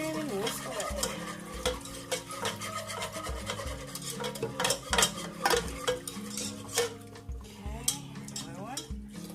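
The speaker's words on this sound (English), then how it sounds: "Now we're going to whisk in our vegetable broth." A whisk stirring vegetable broth into a pot of roasted poblano corn chowder, brisk repeated scraping and clinking against the pot with a faint sizzle underneath.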